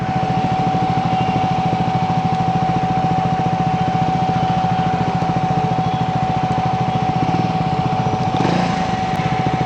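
Steady exhaust drone from a Triumph Scrambler 400 X single-cylinder motorcycle ridden on a wet road, a continuous even engine note at constant speed, close and fairly loud throughout.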